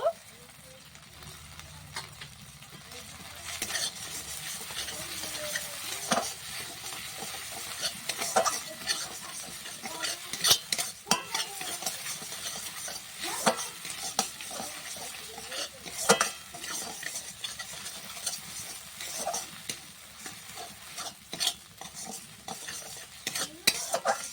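Spoon stirring and scraping spice paste frying in a pan for a vegetarian eggplant mustard-poppy seed curry, a continuous soft sizzle with repeated metallic clinks and scrapes close by, no talk.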